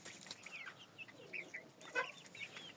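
Several hens cluck softly in a backyard flock of fluffy silkie and frizzle chickens, making short, scattered calls at moderate distance with some overlap, with no talk.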